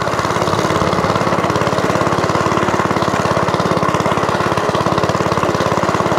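Vintage Suffolk Corporation Mk2 lawnmower engine running steadily close by, a continuous pulsing putter with dense rhythmic firing and no pause throughout.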